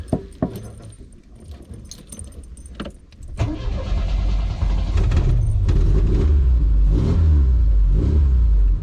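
Triumph Spitfire engine cranks with a couple of key and switch clicks, catches around the midpoint and settles into a loud, close idle with rising revs, no voices over it.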